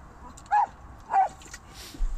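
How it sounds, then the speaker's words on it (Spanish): A dog whimpers and cries in two short, high whining bursts about half a second apart, with a faint third sound at the end, heard fairly close over a quiet background. "¿Por qué está llorando el perro?"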